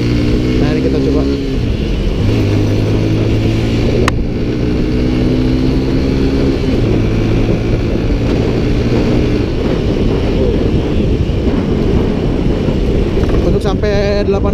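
A motorcycle running on Pertamina Fastron Techno 10W-40 oil drones steadily on a test ride. The engine tone climbs and settles through the gears under wind rush, and a voice is heard over it.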